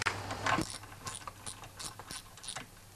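Quiet ratcheting clicks come in short bursts while carburetor bolts are tightened on a Briggs & Stratton Quantum lawnmower engine, close up in a quiet room.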